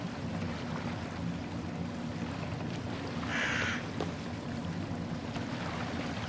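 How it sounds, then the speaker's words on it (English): A single crow or raven caws briefly in the Assassin's Creed Valhalla game while traveling down a stream, faint against a steady wash of flowing water. "I just heard the crow. Or the raven."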